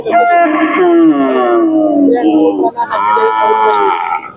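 Loud, drawn-out lowing of two large Khillar bulls close by, one long moan followed by a second after a brief break.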